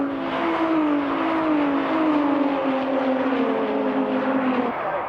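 Race car with a VW Vento VR6 engine at Thruxton circuit, a loud sustained engine drone whose pitch slides slowly downward as it holds for about five seconds.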